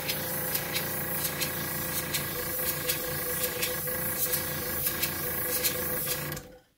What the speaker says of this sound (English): hold your airbrush almost upright and just move it back and forth like this